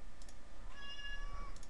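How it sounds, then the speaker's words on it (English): A domestic cat lets out a single short, faint meow near the middle of a quiet room, with soft clicking in the background. "there's my cat. She can hear me."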